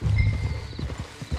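Horse hooves clip-clop in Red Dead Redemption 2, a short run of hollow, evenly spaced steps close by after a louder opening thump, with no voices over them.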